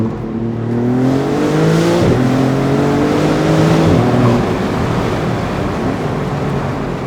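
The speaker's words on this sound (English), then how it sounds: "Oh, downshifts are mean." Maserati MC20 Cielo with its 630-horsepower engine downshifting, a loud, close, continuous growl whose pitch steps down through two sharp gear changes with blips, heard alone over steady road and wind rush.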